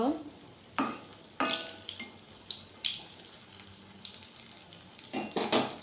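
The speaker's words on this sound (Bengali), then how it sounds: "চানাটা ওইদিকে ভাজা হয়ে গেছে, এখন আমি উল্টো করে দিব।" Chhana (paneer) pieces being turned and fried in a pan for a potato curry, giving bursts of sizzling and spatula scraping in uneven clusters, close and moderately loud, with no talking.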